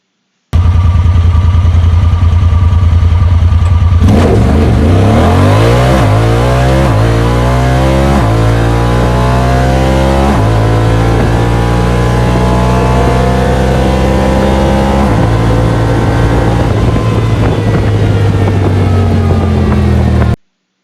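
A Honda Talon 1000 UTV fitted with 32-inch wheels accelerates hard on a test run. The engine roars loud and close, climbing steadily through the gears with distinct shift steps, and no one talks over it.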